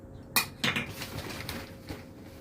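A metal scoop and spade clink close by while baby artichokes are potted into a container outdoors: two sharp knocks, then softer scrapes and taps.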